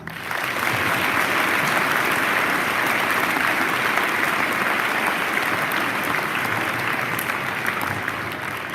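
An audience at a high school Veterans Day program applauds honored guests, including a flight nurse and a mayor, with loud, continuous clapping that swells quickly and stays dense throughout, no one speaking.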